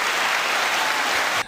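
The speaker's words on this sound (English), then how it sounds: "Why are you not giving yourself applause for this?" Applause sound effect triggered from a button, a short burst of dense crowd clapping that holds steady and then cuts off abruptly.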